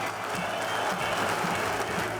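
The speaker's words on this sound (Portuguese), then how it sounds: "foi aplaudido pela torcida pernambucana e retribuiu o carinho" A Pernambuco football crowd applauds a player in a stadium, dense steady clapping filling the clip with a faint murmur of voices underneath.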